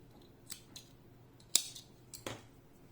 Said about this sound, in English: And I am cutting the yarn.